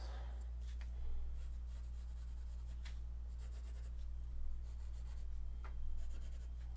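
A colored pencil scratches across paper in short, repeated strokes, fairly soft over a low steady hum, filling in yellow.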